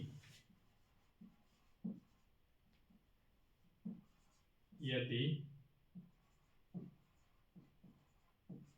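Pen writing on paper while a teacher works through a Navodaya entrance exam problem, soft scratchy strokes with a louder scribble midway, heard under steady talking.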